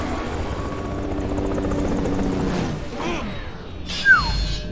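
Helicopter rotor noise from the Metal Gear Rising video game, a loud steady thrum across the whole stretch, joined near the end by a brief sharp metallic swish and game sound effects.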